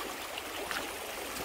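A small creek in Thuringia, Germany, at a gold-panning spot, makes a steady, even rush and trickle of flowing water, continuous and fairly close, with no voices.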